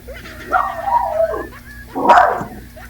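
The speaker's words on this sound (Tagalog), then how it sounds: "Nagalit yung aso." A dog gives two drawn-out, whining barks or yelps, one after the other, close and fairly loud, with a low hum underneath.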